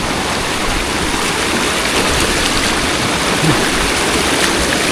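Swollen floodwater after a typhoon rushes along a stream on a farm, a loud, constant roar of flowing water with no let-up.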